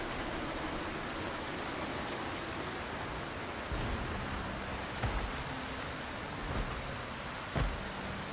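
Steady rain hisses evenly in the Project Zomboid video game, loud and unbroken from start to finish. A few soft low thumps sound beneath it.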